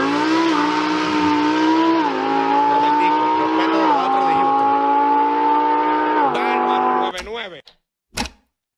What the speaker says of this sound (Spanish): Sí, eso es el Huracán. El Huracán performante.